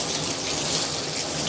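Water pours steadily from a shower head in a home bathroom, a constant loud hiss and splash with no breaks and no voices.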